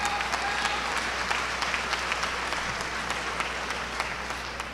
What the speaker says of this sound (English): Yeah, that's worth applauding for.